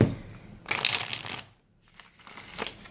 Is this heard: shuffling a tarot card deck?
yes